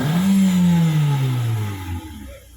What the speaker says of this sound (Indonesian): Setelah di tuning ini, suara knalpot berubah.